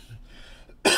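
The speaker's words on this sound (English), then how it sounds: "Excuse me for the coughing." One abrupt, loud cough from a sick person erupts near the end after near silence, harsh and close.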